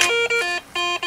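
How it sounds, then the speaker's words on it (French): Low iron tone from a Garrett ACE 250 metal detector: four steady electronic beeps in two pairs, close, loud and clean, with no talking. "Ça, c'est du fer, c'est du grave."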